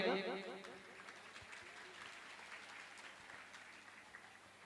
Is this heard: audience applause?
yes